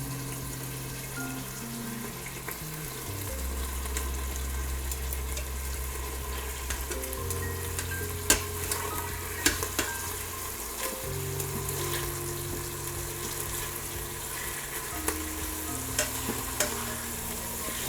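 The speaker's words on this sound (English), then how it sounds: "Starting to sizzle nicely in the oil." Chicken pieces sizzling in hot oil inside an Instant Pot on saute, a steady frying hiss with occasional clinks and stirring scrapes throughout, no voices.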